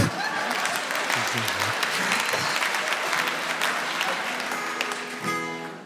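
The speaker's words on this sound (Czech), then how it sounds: "Taky tleskáte úplně všemu" A concert audience claps steadily and loudly for about six seconds, a dense wash of many hands with a few scattered cheers, tapering slightly toward the end as a voice begins to speak.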